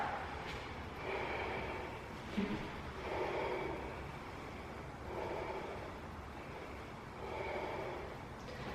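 Slow, steady breaths in and out during a beginners' Ashtanga yoga class, about four long audible cycles, fairly close and soft.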